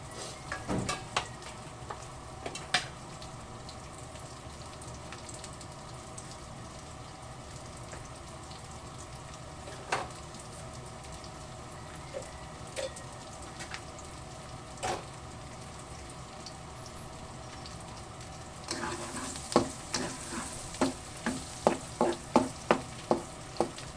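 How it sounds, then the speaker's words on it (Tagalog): Garlic sautés in a hot pan while cooking buttered sweet and spicy squid, a steady soft sizzle running throughout with occasional stirring clicks, and a busier burst of crackling and scraping near the end. "So, satay lang muna natin ang ating bawang."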